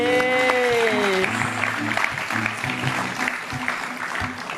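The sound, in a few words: audience applause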